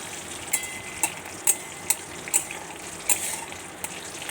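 Semolina upma with curry leaves is stirred in a pan with a long spatula, making rhythmic scraping strokes about every half second over a faint, steady sizzle.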